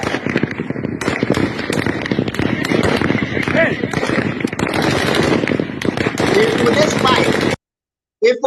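Rapid bursts of gunfire crackle almost without pause for about seven seconds, loud and dense like automatic weapons, then cut to silence with a brief final sound.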